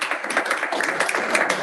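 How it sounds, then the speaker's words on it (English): Scattered clapping from a meeting audience welcoming a realtor to the front, steady and moderately loud for a short burst with no talking over it. "Give him a round of applause."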